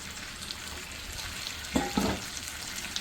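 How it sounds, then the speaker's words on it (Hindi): Leftover water goes over chicken wings frying with garlic in a pan, a constant sizzling hiss with a couple of short splashy bursts near the middle. "और जो बचा हुआ पानी था वो इसके ऊपर डाल दें।"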